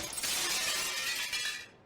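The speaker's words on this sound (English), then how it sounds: "The window broke and glass fell down." Glass shatters loudly and a sustained crash of breaking shards follows, tinkling down for nearly two seconds before fading.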